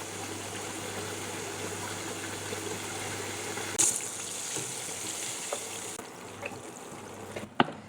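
Chicken pieces frying in oil on low heat, giving a steady, faint crackling sizzle with a trickling quality, a low hum underneath and a few soft clicks near the end.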